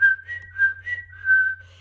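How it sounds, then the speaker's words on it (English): A person whistling a little tune, a short series of clear, close, pitched notes with a lilting rhythm over a faint low hum, alone with no talking. "He whistled a little tune,"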